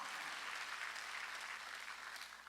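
A church congregation claps during a Sunday sermon at Jesus-Centered Church in Incheon, a fairly distant, continuous patter of many hands that tapers slightly at the end.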